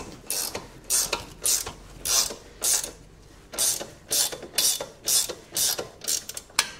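A hand ratchet works loose the back wheel nut on a Yamasaki F series motorbike, clicking in a steady series of loud, close bursts, about a dozen strokes with short pauses between them.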